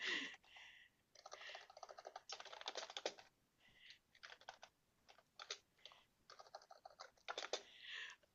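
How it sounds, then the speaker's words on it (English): Rapid clicking of a computer keyboard in irregular bursts with brief pauses, close and fairly quiet, no voices. "She's typing a novel."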